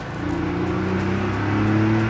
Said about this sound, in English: This car just pulls so nicely.